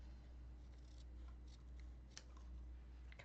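Scissors snipping through cardstock during a paper card-making session, a few light crisp cuts over a steady low hum, fairly quiet and close with no talking.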